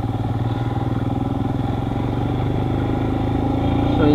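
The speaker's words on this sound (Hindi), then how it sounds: "अभी मैं चलाने वाला हूँ हिमालयन" Royal Enfield Himalayan BS6 motorcycle engine running steadily with a rhythmic mid-pitched thump, close and loud, building slightly toward the end as it pulls away.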